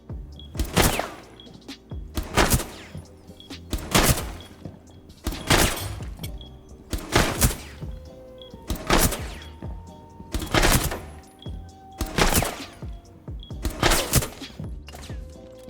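Gunfire in the Rainbow Six Siege video game, about eight loud sharp shots in a steady rhythm roughly every two seconds, each followed closely by a return shot, with no talk.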